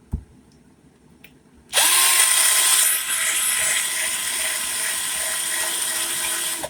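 A car fog light lens is sanded with 800 grit sandpaper, a loud close steady mechanical whirring and scraping that starts abruptly after a few faint clicks and runs continuously to the end, with no talk.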